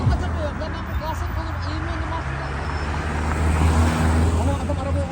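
Cars pass in steady road traffic, a continuous rumble of engines and tyres that swells slightly toward the end, with people talking over it.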